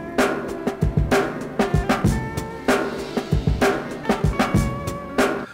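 A sliced sample plays over a beat in Dr. Rex Loop Player, with punchy drum hits and short tonal chops in a choppy, syncopated loop, loud and clear with no voices.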